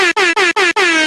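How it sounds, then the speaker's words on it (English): An air horn blasts five times in quick succession, loud and close, each short burst separated by a brief gap. "we've got, of course, the air horn"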